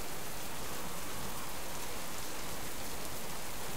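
Steady rain falling in the survival video game Subsistence, an even, unbroken hiss of drops on surfaces at moderate level with no other sounds standing out.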